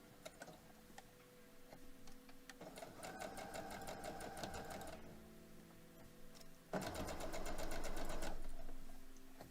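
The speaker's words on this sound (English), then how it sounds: "You're just sewing all of the pieces in row number 1" A sewing machine chain pieces quilt fabric for a quilt block, with two bursts of fast, rhythmic needle stitching separated by a quieter pause filled with faint ticking and handling sounds.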